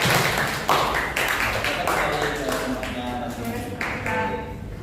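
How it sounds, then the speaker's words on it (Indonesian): Students in a maths class give a group round of clapping, with loud irregular claps and taps scattered through the stretch and voices talking underneath. "Berikan tepuk tangan."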